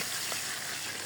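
Chopped onion sizzling in hot oil in a pan alongside fried fish, with eggplant about to go in; a steady, close, even hiss of frying runs throughout without pauses.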